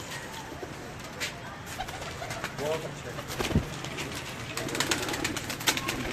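Breeder pigeons in a Lahore loft coo under a busy background of rustling and clatter, with a few soft calls rising briefly while someone speaks nearby.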